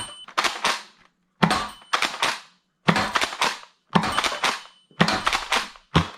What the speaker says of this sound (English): to fire the blaster, assuming you have darts loaded in the magazine, simply pull the bolt back and push it forward